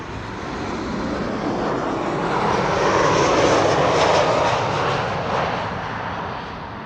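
A KLM airliner on arrival from Bergen roars past at Amsterdam Schiphol on a sunny day, a loud, steady jet rumble that swells slightly to a peak midway and eases off, with no talk over it.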